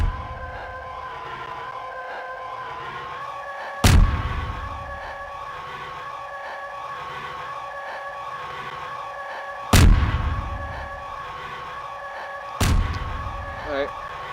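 Bombs exploding in a Star Wars GMod roleplay game, three heavy booming blasts spaced several seconds apart, each with a rumbling tail, over a constant droning engine hum.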